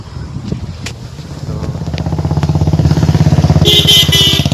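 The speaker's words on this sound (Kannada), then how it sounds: "ಇನ್ನೊಂದು ಸ್ಕೂಟಿ ಬಂತಿಲ್ಲ" A scooter on a village road comes up close with a steady engine drone that grows louder and more rhythmic as it nears, ending in a buzzing, rattling pass.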